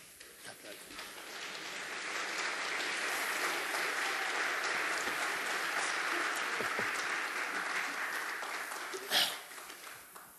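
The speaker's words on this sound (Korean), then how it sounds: "박수하지." An audience claps steadily through a sermon hall, a broad sustained wash of applause that builds and holds before tapering off near the end, with no talk over it.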